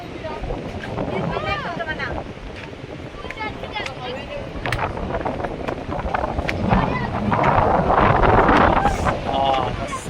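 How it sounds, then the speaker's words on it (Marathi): Steady wind buffets the microphone outdoors at a windmill site, a continuous loud rushing roar that swells toward the end, with people talking intermittently underneath. "हवा है"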